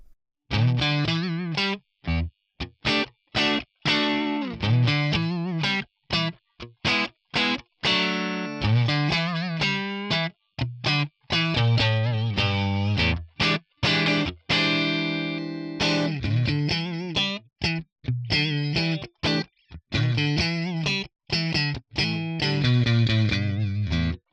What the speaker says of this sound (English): Let's try the V-Front Super Edge Bright without any reverb